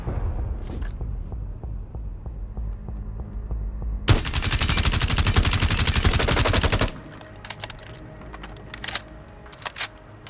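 Rapid automatic gunfire from a gun in the video game Rainbow Six Siege, one loud sustained burst of about three seconds, with quieter clicks and a few sharp shots before and after.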